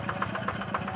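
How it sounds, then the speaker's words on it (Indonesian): Tractor engine running steadily while ploughing a rice paddy, a loud, close, rhythmic chugging throb with no voices over it. "kita pantau teman-temannya proses pembajakan sawahnya menggunakan traktor ya"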